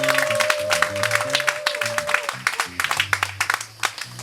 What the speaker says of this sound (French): Qui acclamons très fort pour le Seigneur.